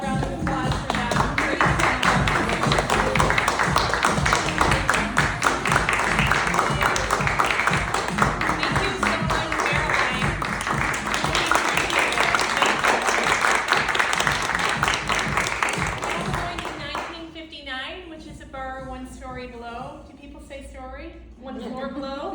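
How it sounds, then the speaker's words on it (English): An audience at a storytelling showcase at Second City applauds the storytellers called back on stage, a dense sustained round of clapping that thins and fades near the end as a voice begins speaking. "Let's give a real round of applause for them"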